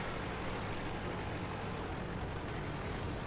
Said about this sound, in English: There's some construction work happening outside